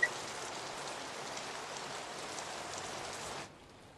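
Steady, dense rain pattering on a surface, constant and fairly loud, stopping abruptly near the end.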